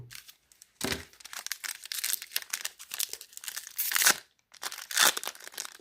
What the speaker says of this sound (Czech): Tak otevřeme zbylý 3 balíčky.